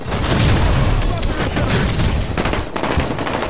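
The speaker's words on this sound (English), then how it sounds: "Incineration cannon ready." Heavy weapon fire from an incineration cannon in the Halo video game, a dense roar of booming blasts and crackling bursts that runs loud and continuous throughout.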